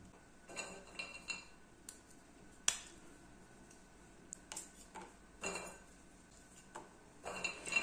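Hazelnuts being cut in half with a knife on a board for a brownie recipe, a series of short, sharp clicks and taps spaced irregularly, close up and fairly quiet.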